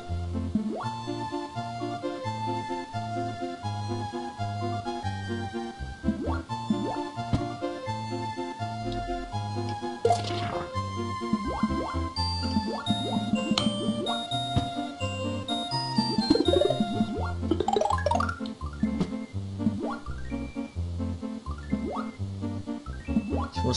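Calm, looping water-level music from the Super Mario World 2 video game plays steadily throughout, with a regular bass pulse under bright melodic notes, sparkly accents and occasional rising flourishes. No one speaks.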